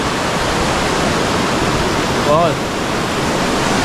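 A strong stream of water rushes loudly and steadily in a broad, unbroken roar, close and constant, with a brief spoken voice rising over it partway through.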